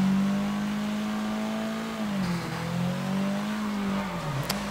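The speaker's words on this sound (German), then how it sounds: "Das Auto hört sich irgendwie cooler." A tuned car engine in the Sleeping Dogs video game revs loudly and steadily, its pitch dipping and rising again twice over a few seconds, with no talking over it.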